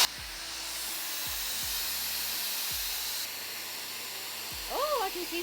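Shark FlexStyle hair styler blowing hot air: a steady, even hiss of airflow runs throughout at moderate level, with a brief vocal sound rising near the end.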